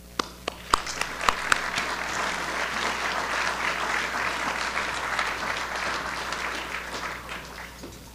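An audience applauding to welcome Dr. Michael Willig at the EIS 2013 lecture, a few distinct early claps swelling into steady, sustained clapping from a room full of people, with no talking.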